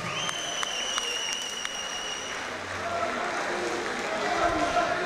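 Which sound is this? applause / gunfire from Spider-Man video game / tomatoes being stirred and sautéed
applause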